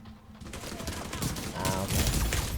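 Gunfire in the video game The Division 2, a dense, continuous burst of rapid shots building in loudness over the second half, close and busy, without speech over it.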